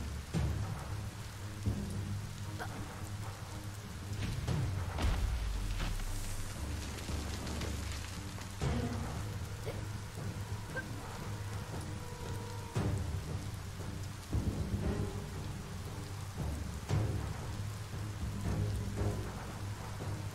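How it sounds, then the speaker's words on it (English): Heavy rain pours steadily in the video game Biomutant, with a dense, continuous hiss on surfaces, occasional rumbles that suggest thunder, and a burning fire nearby, with no talking. "It's raining so heavily, but the fire is still blazing."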